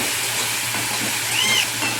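Water poured into a pan of potatoes frying with turmeric and chili, producing a loud, steady sizzling hiss close up, with a brief rising squeal partway through.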